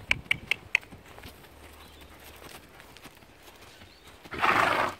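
Horse being worked on foot in a green valley while recovering from laminitis: a few sharp hoof clip-clops at the start, a quiet stretch, then a short loud burst of a neigh or snort near the end.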